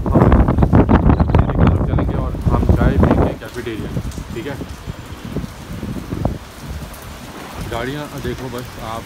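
A heavy rainstorm in Dubai drums loudly and steadily against a close surface with some wind buffeting, easing after a few seconds as someone talks over the quieter rain.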